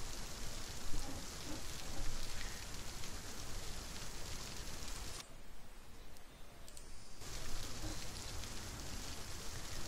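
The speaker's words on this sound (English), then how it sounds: "You can see it's a little bit rainy out right now." Rain falls steadily outside at an airport, a soft, faint broadband hiss with scattered light patter that briefly drops out midway before returning.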